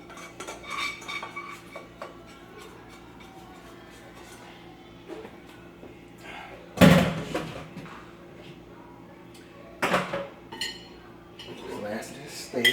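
Cooked white rice being scooped from a pot onto a plate, with scattered utensil scrapes and clinks against the cookware, a sharp clatter in the middle and softer knocks later.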